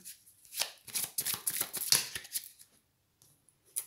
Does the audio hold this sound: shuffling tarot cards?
yes